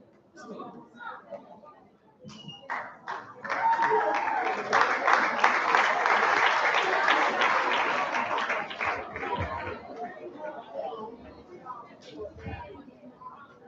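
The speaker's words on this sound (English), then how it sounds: "A big round of applause for them, please." Applause from an audience at a Rotary youth summit honoring youth ambassadors builds after a few scattered claps into a sustained round, then thins out, with voices and chatter mixed in.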